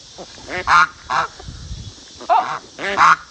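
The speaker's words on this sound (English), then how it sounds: "He's still holding that duck down to the ground." A duck held to the ground by a rooster squawks and honks in loud, harsh bursts, about four calls spread unevenly over a few seconds with brief quiet gaps between.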